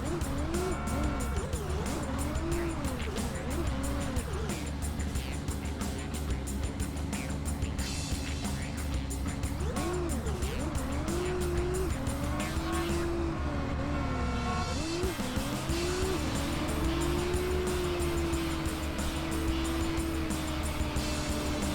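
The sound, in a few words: car engine sounds in video game The Italian Job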